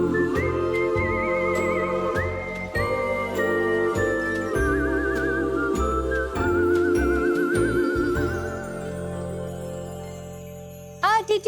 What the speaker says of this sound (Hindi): ये तो पायल की आवाज है ना?